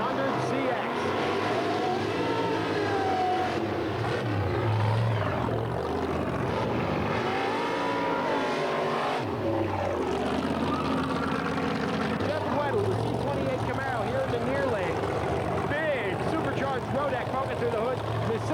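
Drag racing cars, a Z28 Camaro and a Datsun 300ZX, roar with a sustained, steady engine drone that rises and falls in pitch, while an announcer talks over the noise throughout.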